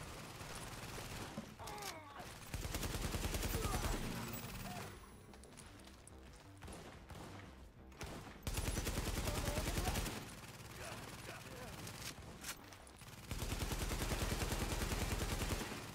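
Bursts of automatic gunfire strike a metal railing in The Division's survival mode, loud close volleys coming in separate clusters with sharp clattering impacts and quieter gaps between them.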